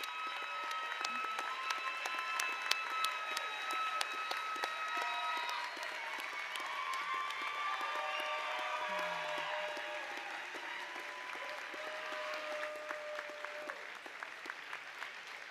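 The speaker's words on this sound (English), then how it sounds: "Please join me in applauding their accomplishments." A large commencement crowd applauds the 70th graduating class of Lake-Sumter State College: broad, continuous clapping from many hands over a long stretch, with faint cheers and whistles mixed in.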